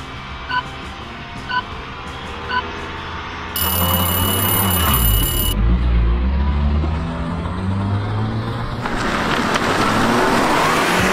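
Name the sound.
Mini hot hatch launching at full throttle in drag race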